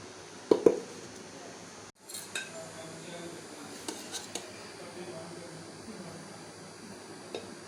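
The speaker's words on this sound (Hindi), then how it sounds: "अब मैं बिरयानी को अच्छी तरह से मिक्स कर लेती हूँ।" Spoon stirring chicken biryani in a metal pot, with a couple of sharp clinks early on, then a scraping knock and soft, scattered taps over a steady kitchen hum.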